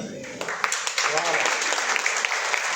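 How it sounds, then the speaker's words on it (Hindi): An audience at a business leadership recognition event in Ahmedabad, Gujarat breaks into steady applause. Continuous clapping fills the room for a few seconds, with a few sharper individual claps standing out. "बोले बिना तालियां बज रही है"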